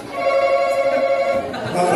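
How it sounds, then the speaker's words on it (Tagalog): A telephone rings with a steady electronic tone, loud and close, during a family party game at a 19th birthday celebration; faint voices sit beneath it. "Ay, telepono pala to."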